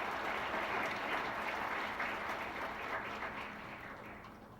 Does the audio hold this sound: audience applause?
yes